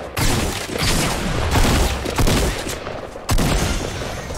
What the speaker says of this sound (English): I see what he's shooting at, then I shoot this guy